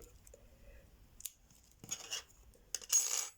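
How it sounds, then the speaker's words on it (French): Scissors snipping yarn during a small crocheted Christmas mitten project: a few faint, brief metallic clicks and snips close by, quiet and alone. "Donc là, vous pouvez déjà couper le fil qu'on a caché."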